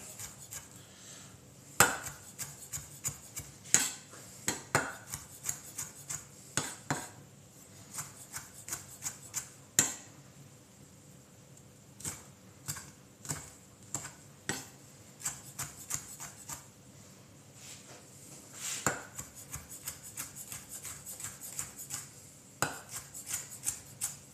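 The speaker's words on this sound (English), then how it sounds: "We're not making brunoise today, we're just chopping it." Knife chopping avocado and tomato for a dip in a home kitchen: irregular runs of sharp, close taps on a cutting board, some quick bursts and some single knocks, with a faint background hum and no talking.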